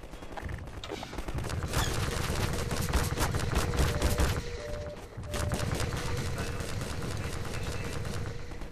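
Rapid, dense gunfire from the Half-Life 2 video game during a fight against Combine forces, with bursts of shots crackling loudly and almost without pause, briefly dipping before resuming.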